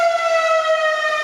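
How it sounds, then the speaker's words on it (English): Tornado warning air raid sirens in Lake Highlands, Dallas, wail in a steady sustained tone with rich harmonics, loud and continuous with no voices. "you can hear the sirens"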